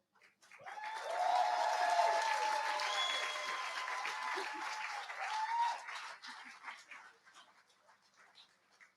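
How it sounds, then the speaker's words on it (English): Crowd applause at the World's Toughest Mudder 2025 awards ceremony, honoring the women's 40 to 44 winners. It swells quickly to a dense, steady patter with tonal whoops or whistles mixed in, then thins and fades after about six seconds. "Let's give them one last round of applause"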